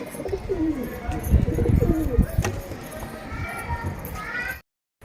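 Pet pigeons coo in soft, repeated low throaty calls with a few brighter chirps, close by, while someone talks over them, before the sound cuts off abruptly.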